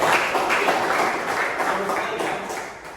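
Classmates clap together in a room, a dense burst of applause that starts strong and slowly thins out, with some voices mixed in underneath.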